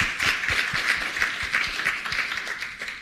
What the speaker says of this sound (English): I also want to give a round of applause to all the presenters